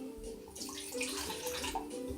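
Water is poured out of a jar while preparing water kefir with plums, a continuous gurgling splash that runs steadily for a couple of seconds, close to the microphone and unaccompanied by speech.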